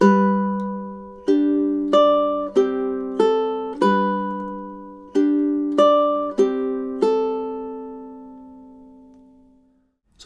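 Ukulele picking through two measures of Tárrega's Adelita, a slow sequence of clear plucked notes ringing out, close and solo, with the final note decaying into near silence.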